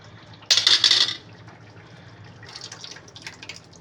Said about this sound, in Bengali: এবারে আমি খিচুড়ি ঢেলে দেবো।